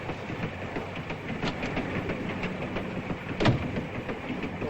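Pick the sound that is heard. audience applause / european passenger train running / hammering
european passenger train running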